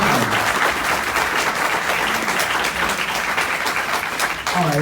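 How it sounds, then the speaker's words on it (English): Loud, close audience applause at the Anarchadelphia 2019 talk event, a dense continuous wash of clapping with a few scattered voices and cheers underneath. "can we get a round of applause for this?"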